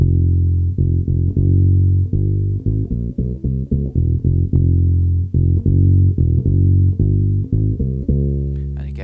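Solo electric bass plays a repeating line without backing, a loud, close run of short plucked notes in a steady groove ending on a longer held note.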